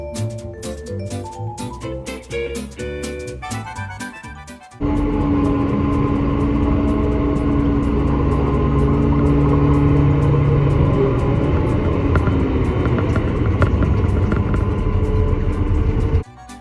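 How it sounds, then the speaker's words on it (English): A forage chopper picking up grass beside a truck being loaded rumbles with a loud, steady heavy engine drone; a farm open day setting, with a quieter mechanical passage before the roar rises. "Here you can really see the front end of the chopper picking up that grass"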